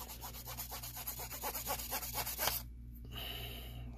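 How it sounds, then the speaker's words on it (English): A Bright Boy eraser scrubs electrical connector pins in a steady run of quick, close rubbing strokes for about two and a half seconds, then stops, leaving a quiet hum. "Let me clean these pins just to be safe. Get out the trusty Bright Boy."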